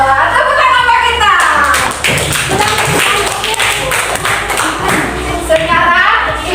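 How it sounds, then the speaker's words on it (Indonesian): Children clap together in a school classroom, a loud, close run of rapid hand claps under excited voices and chatter. "Tepuk tangan bagi kita."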